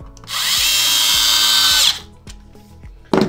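A power screwdriver whirs steadily for about a second and a half as it drives a screw into an Xbox One X console, then stops, followed by a few light clicks and a handling knock, close and clear.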